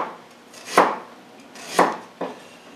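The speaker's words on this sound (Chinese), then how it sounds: "首先咧，將啲姜咧切薄佢" Knife thinly slicing ginger on a board, three distinct close chopping strikes spaced about a second apart, the last following quickly after the second.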